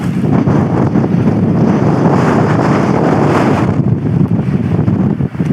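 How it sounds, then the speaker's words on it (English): Strong wind buffets the microphone on a Welsh mountain, a loud continuous roar with low rumbling gusts that ease slightly near the end. "Windy as hell as well now."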